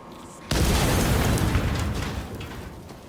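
A grenade goes off in Helldivers 2 with a sudden loud boom that rolls out into a long rumbling decay over a few seconds.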